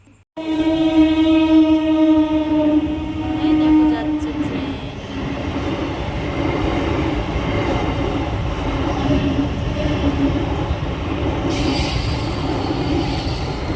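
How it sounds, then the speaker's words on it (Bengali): A train rolls past a closed level crossing while waiting riders sit in an e-rickshaw, opening with a loud horn blast, then a steady rumble and clatter of wagons that holds close and loud to the end. "গেট পড়েছে ট্রেন যাবে"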